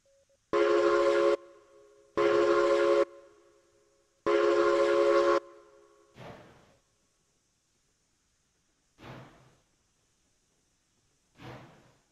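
Loud steam train whistle blasts three times in Railroads Online as a train hauls up a hill, followed by fainter, spaced chuffs from the engine.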